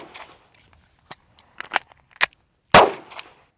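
A handgun fired during reload drills, several sharp isolated shots and metallic clicks spaced irregularly, ending with one loud close report, with near silence between them.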